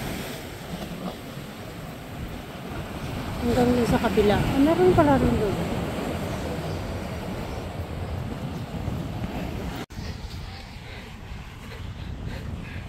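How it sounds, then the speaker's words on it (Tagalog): Ocean waves wash onto a beach in a steady broadband roar with wind buffeting the microphone, while a person talks over the surf for much of the time. "ganda ng alon"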